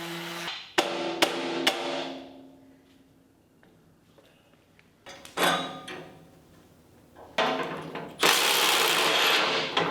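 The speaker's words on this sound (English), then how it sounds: "I used an orbital sander, and I started off with 80 grit sandpaper to really get rid of those thick layers of paint" Orbital sander with 80 grit paper stripping thick paint and rust from a steel go-kart frame, heard as loud bursts of grinding, rasping noise that start and stop several times with quieter gaps between.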